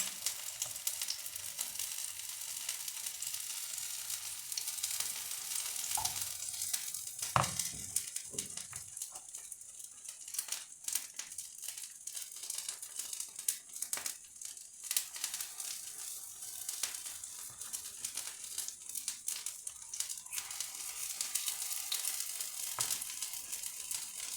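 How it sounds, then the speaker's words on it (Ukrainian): Pumpkin fritters with apple, cheese and cinnamon sizzling and crackling steadily in a hot pan, a continuous hiss with occasional louder pops and spatters, no talking. "хай смажиться."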